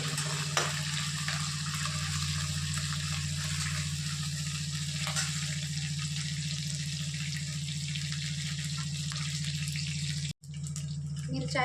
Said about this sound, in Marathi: कढीपत्ता कढीपत्ता छान कसा परतडून न्यायचा आहे